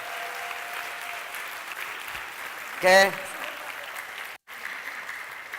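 Audience applause for visiting guests continues at a moderate level while a speaker briefly talks over it, ending in a short silence.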